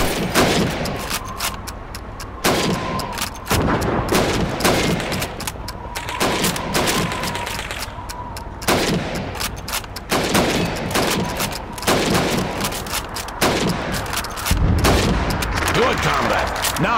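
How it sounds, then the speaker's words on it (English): Rifle shots crack out repeatedly in Call of Duty 2 as a soldier fires at helmets during a timed shooting drill, sharp loud reports at irregular intervals over a busy battlefield-style background, with a voice speaking between shots. "You have 15 seconds to shoot the helmets."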